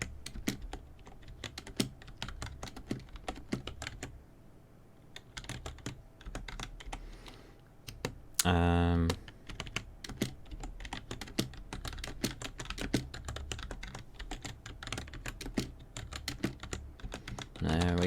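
Rapid keyboard typing while programming a computer, dense clicking keystrokes running steadily close up, with a brief louder burst midway and faint speech in the background.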